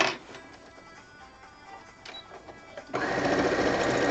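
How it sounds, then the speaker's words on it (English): A sewing machine stitching quilt binding, starting with scattered clicks and handling noise, then a loud, steady, rapid mechanical whirr as the machine runs continuously up close. "I was not looking as I was sewing and I went off kilter."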